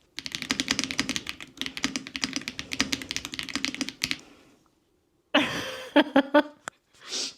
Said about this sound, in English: I love a good clicky keyboard